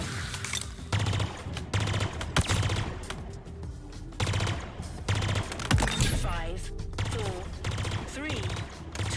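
Repeated bursts of Academy weapon fire in Halo Infinite, loud rhythmic volleys separated by short pauses, with a voice speaking intermittently over the shooting.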